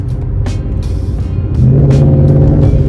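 A modified Ford Mustang with air ride and a blow-off valve, its engine rumbling loudly and close, building in intensity partway through as it revs, with no talk over it.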